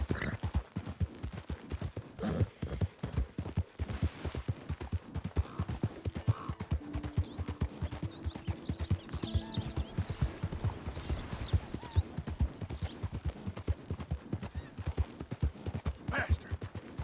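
Horse hooves clip-clop in a steady, even rhythm throughout, moderately close, with faint background sounds.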